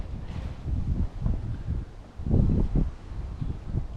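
Cold winter wind gusts outdoors beside a koi pond, a low buffeting rumble on the microphone that swells and eases in uneven waves, with no other sound standing out.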